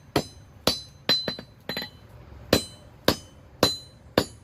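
A hammer strikes a steel mini anvil block being forged and finished, about nine sharp, ringing metallic clangs at an uneven, steady working pace, close by, with no talking.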